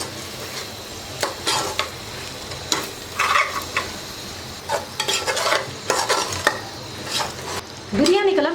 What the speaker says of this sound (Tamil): இப்போ இது எல்லாத்தையும் சேர்த்து நல்லா மிக்ஸ் பண்ணி விட்டுக்கலாம்